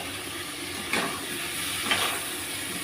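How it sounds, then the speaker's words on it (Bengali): Prawns sizzling in a spiced pan as they are stirred, a soft steady hiss with two brief bursts of scraping and spattering about a second apart, fairly quiet and close. "এবার ওর মধ্যে এই চিংড়ি মাছ কটা দিয়ে আবার একটু নেড়ে নেবো।"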